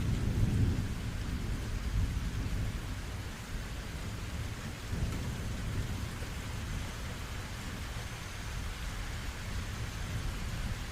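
A steady rain and thunderstorm ambience: dense rainfall hiss with low rumbling thunder rolling underneath, constant and moderately loud throughout, no voices.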